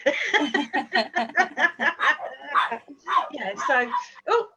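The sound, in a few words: dog barking and whimpering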